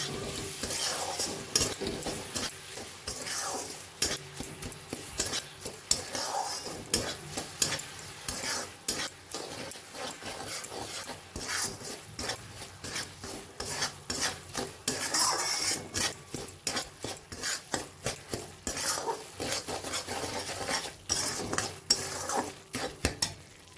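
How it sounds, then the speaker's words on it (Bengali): Palm jaggery is stirred into golden fried semolina in a pan, with a utensil scraping and clinking rhythmically against the metal under a soft sizzle, close and continuous without pause. "এবার গুড়টা ভালো করে সুজির সঙ্গে মিশিয়ে নেব।"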